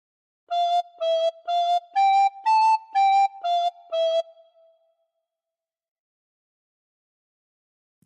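A recorder plays a short melodic phrase from the Welsh tune Ar Hyd y Nos, eight clear separate notes at a steady pace, the last one held and fading, followed by a few seconds of silence.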